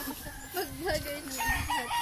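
A chicken clucks and warbles up close, a short run of rising and falling calls over soft background noise.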